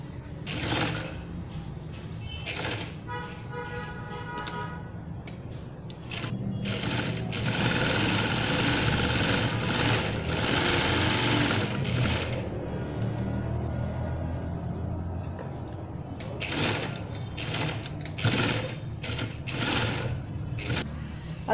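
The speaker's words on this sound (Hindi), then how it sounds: "अब बैक साइड के दोनों पट्टियों को आप पहले मशीन की मदद से फोल्ड कर लें, यानी कि 2 सिलाइयां लगाकर पीछे का स्लिट रेडी कर लें" A sewing machine stitches the folded back slit of an off-white baby frock in bursts of steady rapid whirring, a long run in the middle, with short separate stitching spurts before and after.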